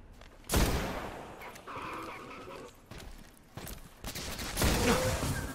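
Gunfire from a player shooting robot snipers in the video game Destiny, loud bursts of shots in several clusters with game noise in between, no talk.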